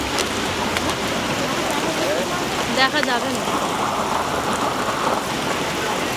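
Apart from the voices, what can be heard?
heavy rain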